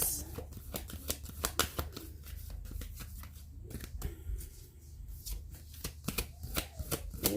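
Tarot cards are shuffled by hand during a reading, giving a run of crisp riffling bursts and soft slapping taps in an irregular rhythm, close and fairly quiet against a low hum, with no talking.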